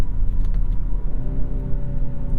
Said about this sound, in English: Nice rev match downshifts.